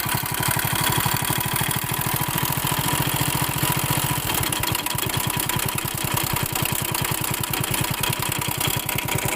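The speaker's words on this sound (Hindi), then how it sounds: "ये टाइमिंग चेन का साउंड है" Hero HF Deluxe 100 cc motorcycle engine idling with a worn, noisy timing chain, a steady rapid ticking clatter over the low engine rumble, loud and close, running continuously without talk.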